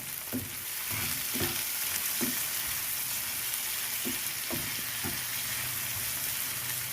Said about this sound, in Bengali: এবার ভালো করে নাড়িয়ে সারিয়ে নেব